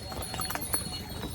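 Horse hooves clip-clop at a brisk, uneven pace on the mountain trail near Gaurikund on the Kedarnath route, moderately close, with faint voices and outdoor background noise around them.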